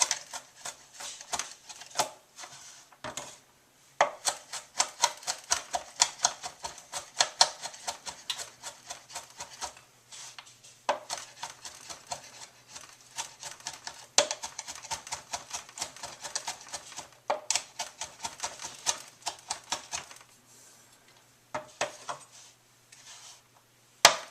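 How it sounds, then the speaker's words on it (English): A knife chops garlic finely on a cutting board in rapid, steady taps, with short pauses between bursts, close and clear with no talking. "you got a nice fine chop of the garlic there"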